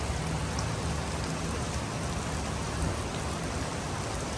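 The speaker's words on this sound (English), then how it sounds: "Wrong bike to be trying to ride through the rain like this, and not dressed for it." Heavy rain pouring steadily during a stop on a Kawasaki ZX-10R sport bike ride, a dense, unbroken hiss of drops drumming on surfaces nearby, loud and constant with no voices.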